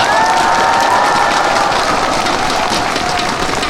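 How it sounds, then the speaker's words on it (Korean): A concert crowd at a nationwide housewives' singing contest in Asan gives a dense, loud burst of applause and cheering for the event staff, steady throughout with a few whistles or shouts riding on top. "우리 스텝 여러분들께도 큰 박수 한번 부탁드리겠습니다"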